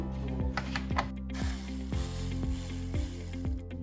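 Small metal worm-drive hose clamps with 8mm heads on throttle body intake piping being loosened, giving faint clicky ratcheting ticks in a steady rhythm of about two per second over a constant low hum.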